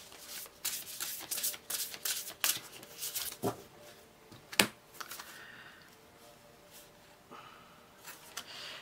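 Tarot cards are shuffled in quick bursts of riffling and flicking, then slow to a few scattered taps and slides near the end, fairly close and quiet, with no talking.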